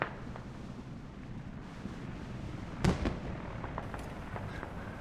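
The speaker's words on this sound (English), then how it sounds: "LLAMAKRIEG now calling in the airstrike on Blue Army's fob" In the Squad video game on the Belaya map, an airstrike lands as one sharp, booming blast with a short rumbling tail, set against a quiet, breezy ambience with a few faint pops afterward.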